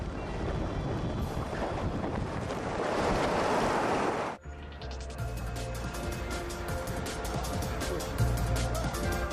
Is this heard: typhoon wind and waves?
yes